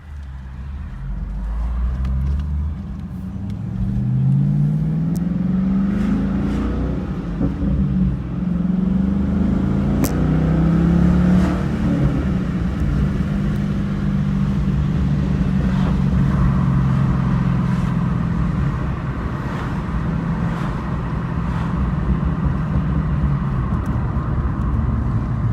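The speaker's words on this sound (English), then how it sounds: "Just listen to the exhaust." Steady, deep rumble of a Chevrolet SS V8 fitted with a Solo performance axle-back exhaust, heard from inside the car while cruising, with gentle rises and falls in engine pitch as it accelerates, no talking.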